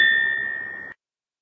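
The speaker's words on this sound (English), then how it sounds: "makes the single stroke bell to sound" A railway block instrument's single stroke bell sounds once, a bright metallic ding ringing steadily for about a second before being cut off abruptly, heard alone.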